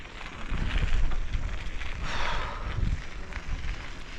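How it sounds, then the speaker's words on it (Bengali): Strong headwind blowing from the front while travelling in Kenya, heard as a loud, continuous, gusty rumble of wind buffeting the microphone, with no talk. "যেই পরিমাণ বাতাস আসতেছে সামনে থেকে"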